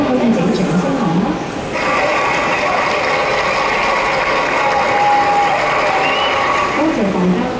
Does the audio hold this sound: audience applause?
yes